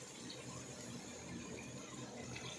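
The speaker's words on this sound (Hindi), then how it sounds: "तो यहाँ पे हम इसमें पानी ऐड करेंगे।" Water poured into a cooking pot while making aloo pulao with rice, a steady broadband wash of liquid lasting a few seconds, fairly quiet and continuous with no talking.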